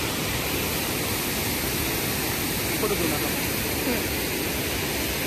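Water pours over the old Terna dam on the Terna river near Dhoki, Dharashiv, a loud, steady roar of rushing flow filling the whole span without letup.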